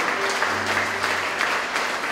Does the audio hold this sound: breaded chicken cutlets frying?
no